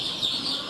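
A newly hatched, one-day-old chick peeps in a brief run of thin, high chirps that blur into a faint continuous trill, close by and quiet, with no voices.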